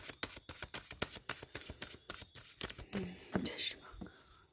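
Tarot cards shuffled in the hands with a steady run of quick papery riffles and flicks, close and fairly soft, with a faint whisper-like voice in the background.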